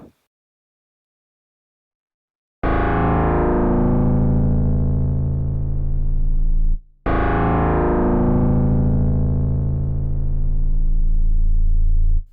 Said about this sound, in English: that's the sound of the pitch envelope modulating the FM color.